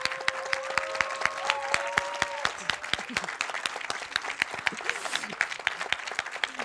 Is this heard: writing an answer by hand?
no